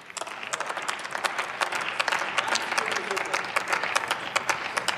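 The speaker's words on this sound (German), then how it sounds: "Applaus" Applause from members seated in the German Bundestag chamber during a debate speech on an IT security law, steady clapping that rises and holds for several seconds, moderately loud and without speech over it.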